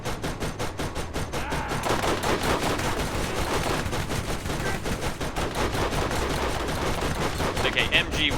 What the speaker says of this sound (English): Let's try the machine gun.